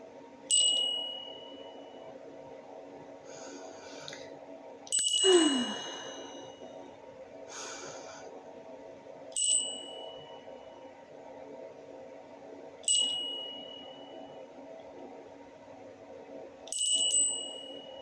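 A small spirit bell struck five times at spaced intervals, each a bright clear ding ringing out and fading slowly in a quiet room, with a soft breath or sigh near the second strike.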